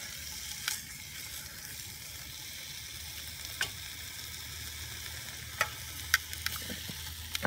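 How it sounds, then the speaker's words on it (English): Quiet, steady sizzling of chicken frying in a Dutch oven, with a few sharp clicks and taps scattered through. "hear that sizzle."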